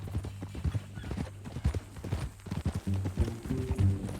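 Horse hooves clip-clopping steadily at a walk in the video game Red Dead Redemption 2, close by, with a low background rumble and a brief whinny-like tone near the end.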